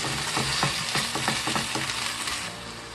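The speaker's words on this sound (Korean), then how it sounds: "이렇게 적당히 볶아질 때 다시마물 한 컵입니다." Doraji and gosari namul stir-fried in perilla oil in a pan, with kelp stock poured in, giving a steady sizzle broken by a quick run of sharp utensil scrapes and clicks near the start, then easing off toward the end.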